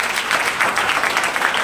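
Dense, continuous applause from an audience at a leader training seminar, a loud, even wash of clapping hands with no pauses and no talking over it.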